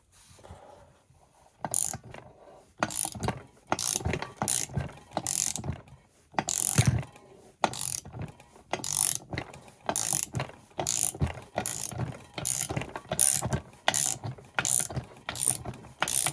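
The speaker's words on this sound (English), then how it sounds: "what it's doing is it's basically pressing the bearing out with the crankshaft" A crankshaft presses a bearing out of a split Stihl 044 Magnum chainsaw crankcase, giving a close, steady run of repeated ratcheting mechanical clicks and clunks, regular bursts for about sixteen seconds with no talking.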